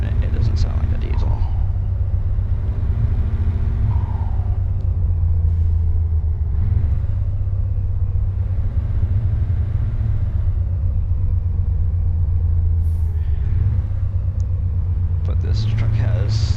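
Modded truck engine with side exhaust pipes in a driving game on a Valencia, Spain route, a deep steady rumble holding under the throttle for the whole stretch, with a voice talking over it.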